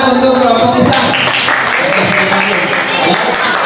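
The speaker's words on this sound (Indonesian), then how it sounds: "tepuk tangan untuk kelompok Isan." A class applauds a student group, close dense clapping from a room of people with voices mixed in, steady throughout.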